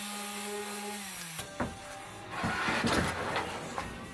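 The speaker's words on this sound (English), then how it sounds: "Then take off all the sharp corners with the sander" A power sander working the corners of a plywood deck for a Toyota Tacoma short bed, a machine whine winding down, then rough, uneven grinding and scuffing bursts close by.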